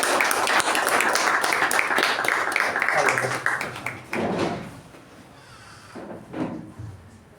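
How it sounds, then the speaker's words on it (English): Audience applause welcoming a speaker to the lectern at a Toastmasters club meeting, a dense burst of clapping that thins out and fades to scattered claps after about four seconds. "please help me welcome Toastmaster Prashanth with a huge round of applause"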